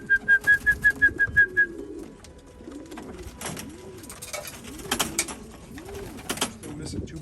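Racing pigeons, hens and cocks including black birds, coo at the home loft after a race: a rapid run of repeated clear notes at the start, then soft rolling coos that keep going, close by over a steady background.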